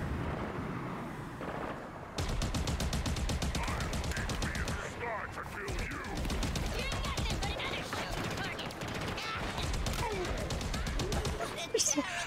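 Gunfire and heavy weapon blasts in a Halo Infinite firefight on Riven Gate, dense rapid shots and booms running almost continuously from about two seconds onward, loud and busy, with a voice talking over parts of it.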